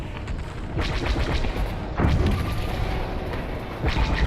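Heavy booming blasts from a receiver dish being destroyed in the Star Wars: Squadrons space combat game, several loud explosive hits in a dense, rumbling battle mix with no talk.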